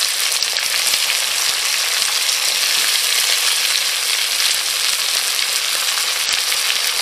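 Liver masala with onion and tomato fries in a pan, giving a loud, steady hiss of sizzling oil with faint crackles and stirring taps, close up and unbroken, with no voices.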